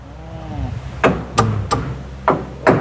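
A hammer drives nails into wooden boards while a small hut is being built. Five sharp, close, loud blows land at uneven intervals over a low background hum.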